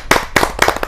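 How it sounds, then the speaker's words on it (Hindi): Audience members at a Kavi Sammelan poetry gathering clap to welcome a poet, heard as a few sharp, loud, separate bursts of clapping close by. "जोरदार तालियों के साथ हम उनका स्वागत करते हैं।"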